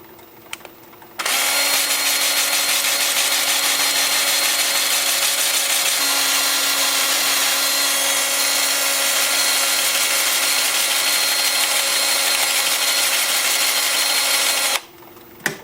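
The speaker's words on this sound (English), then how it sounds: "Then the 2-inch lathe spinning in reverse at about 350." A 2-inch piece on a wood lathe turns in reverse at about 350 rpm. It gives a loud, steady whirring hum that starts abruptly, runs unbroken for about thirteen seconds and then cuts off. No one speaks over it.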